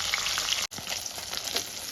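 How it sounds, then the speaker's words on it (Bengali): Katla fish pieces frying in hot oil in a pan give a loud, continuous crackling sizzle at close range, broken by one brief gap, with no talking. "মাছগুলো আমার দু পিঠি লাল লাল করে ভাজা হয়ে গেছে।"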